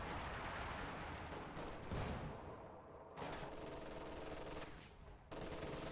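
Machine gun fire in Company of Heroes 2, rapid sustained bursts with brief gaps, mixed with other battlefield gunfire, loud and continuous with no talk.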